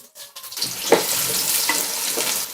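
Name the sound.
chopped onions frying in oil with spices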